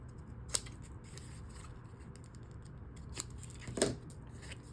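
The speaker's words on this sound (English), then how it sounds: "Just cutting these corners off." Scissors snip the paper corners off a handmade interactive mini album, giving a few close, sharp clipping cuts that are spaced apart, the last one the loudest.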